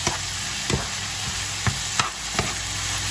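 Chili powder being stirred in a hot pan on the stove, a steady sizzle broken by several sharp scrapes of the utensil against the pan at irregular intervals, close and fairly loud.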